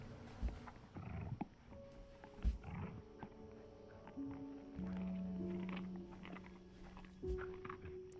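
A coyote in the video game Before Your Eyes gives rough, growling animal calls. They are faint and scattered, set against sustained low musical tones, with a few soft thuds.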